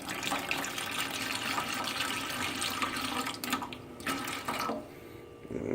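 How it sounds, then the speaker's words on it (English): Vinegar, about a cup, is poured into a crab pot, a steady splashing liquid pour heard up close that trails off near the end. "Put maybe, let's see, about maybe a cup of vinegar in it."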